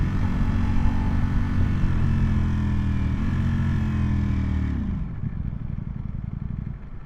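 A Ducati Panigale V4S motorcycle on the road, its engine droning loud and close with steady harmonics, then the pitch sweeps down as it decelerates, settling into a lower rumble near the end, no voices.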